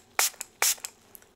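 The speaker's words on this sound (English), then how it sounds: "So we're going to put first this like a spray" Two quick liquid spray bursts close to the ear during a quiet ASMR doctor ear exam, each followed by a small click or tap, with a faint tick at the end and no talking.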